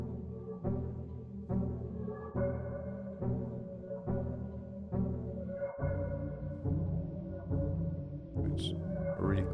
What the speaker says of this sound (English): I stretched the original synth and harp melody